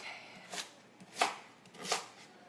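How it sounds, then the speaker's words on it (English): A knife chops through potatoes on a cutting board in a home kitchen: three separate, close, crisp cuts spaced out over a couple of seconds in quiet surroundings. "So, almost done chopping these here."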